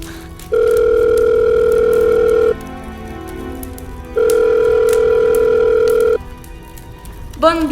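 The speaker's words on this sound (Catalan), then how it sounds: "Treu el mòbil i crida al 112." A phone dial tone for a call to the 112 emergency number, loud and steady in two long bursts of about two seconds each with a short gap between them, over quiet outdoor background noise near the Túria river.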